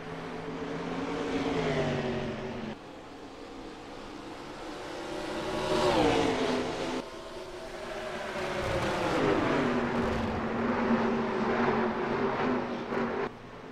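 Late model race cars at Richmond in a racing video game, engines droning and revving loud and close, rising and falling in pitch as the cars pass and shift through the corners.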